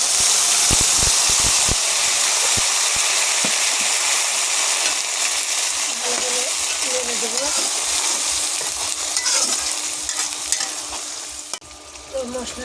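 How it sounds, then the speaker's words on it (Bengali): A paste of ground coriander, cumin, ginger and garlic fries in a pan, a loud close sizzle with scraping stirs and knocks of a spoon, fading slightly near the end. "এবার আমি মশলা ভালো করে কষিয়ে নেব।"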